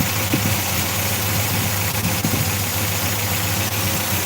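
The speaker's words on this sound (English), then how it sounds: "Can you all hear me okay over the engine noise?" MG BGT engine idling steadily with a low, even mechanical hum and slight knocking vibration, continuous and close with no speech.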